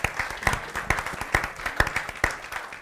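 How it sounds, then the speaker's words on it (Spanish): Sparse audience applause after a talk at a series closing event, with distinct individual claps in an uneven rhythm, fairly close and moderately loud, no speech over it. "un aplauso, por favor"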